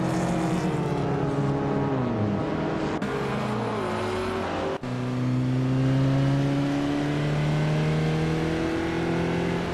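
Race car engines roar continuously in a racing video game, with rally cars such as a 1982 Lancia 037 Stradale revving and shifting through gears, loud and close throughout.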